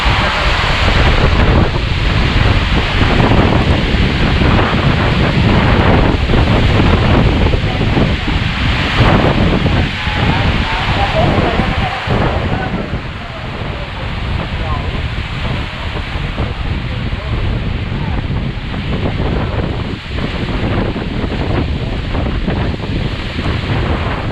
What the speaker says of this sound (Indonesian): anginnya tidak berlangsung lama nih